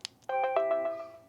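A Google Nest Doorbell 3rd Gen sounds its Digital chime, a quick run of short, bright electronic beeps in a steady rhythm, six or seven pulses with ringing tones carrying through, close and clear without speech.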